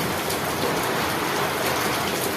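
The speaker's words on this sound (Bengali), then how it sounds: "দেখো কিভাবে বৃষ্টি হচ্ছে" Heavy rain falls in a steady, dense hiss, close and continuous with no voices or other sounds.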